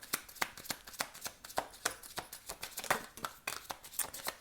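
Tarot cards being shuffled by hand, a close run of quick, crisp riffling snaps in an irregular rhythm, with no talking over them.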